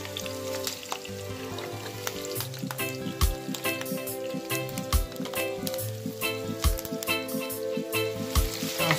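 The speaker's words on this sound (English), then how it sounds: "we're going to go ahead and saute this" Red pepper and thyme sauté in a pan for Jamaican salt mackerel rundown, with a soft crackling sizzle and a series of regular dull knocks from stirring, fairly quiet and steady.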